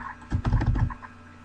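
Arrow keys pressed on a computer keyboard while editing in Adobe Premiere Pro, a quick close run of several soft clicks bunched together, heard alone.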